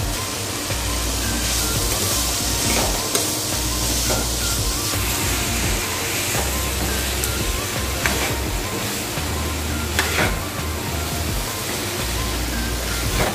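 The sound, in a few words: ash gourd and vegetables sizzling as they fry in pan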